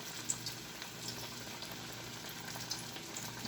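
Plantain flower vada patties fry in hot oil with a steady, soft sizzling hiss and faint crackles throughout, with no voices.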